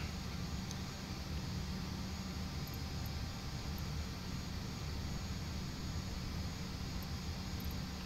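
A small airplane in Microsoft Flight Simulator 2020 hums with a constant, even engine drone, faint and unbroken throughout, with no voices.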